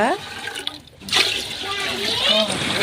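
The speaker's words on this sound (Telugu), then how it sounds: "పాకానికి గిన్నెన్నర వాటర్ అయితే వేసుకోవాలంట" Water is poured into a pot to make jaggery syrup, a close, loud pouring splash that starts after a brief pause and continues steadily while someone talks over it.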